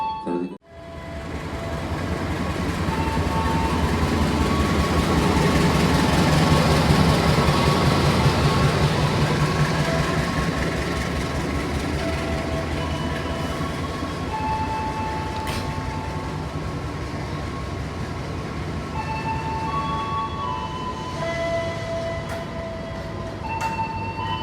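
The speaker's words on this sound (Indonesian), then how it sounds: "kita akan menunggu juga kereta api Bima di jalur 3 akan segera masuk katanya teman-teman" A Bima passenger train rolls into Kutoarjo station on track 3, a loud sustained rumble and rail clatter lasting the whole stretch, with faint tonal squeals and signal-like notes near the end and no talking.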